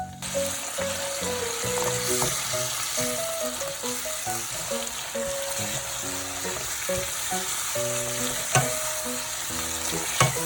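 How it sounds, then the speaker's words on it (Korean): Squid stir-fries with sugar in a hot pan, a constant close sizzle broken by repeated scraping stirs and clinks throughout, with one sharper knock near the end. "오징어를 넣고 설탕 1스푼 반 넣고 볶아주세요."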